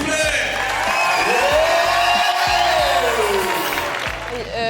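Crowd at a CrossFit competition on Réunion Island cheering and clapping for an athlete, loud and continuous, with whoops and shouts rising above the clapping while an amplified voice and music carry on underneath.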